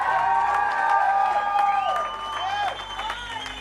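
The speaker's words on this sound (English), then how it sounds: "Clap for Jesus." A congregation at a healing service claps and cheers loudly, with whoops and raised voices over a held organ-like musical chord that swells and shifts underneath.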